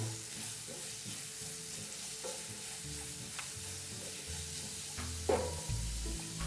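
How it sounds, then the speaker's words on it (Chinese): Chopped onions stir-fry in about 60 grams of cooking oil over medium heat, giving a soft, steady sizzle with occasional scraping stirs, fairly quiet throughout. "中火稍微拌炒"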